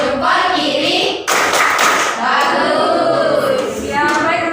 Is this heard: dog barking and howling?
no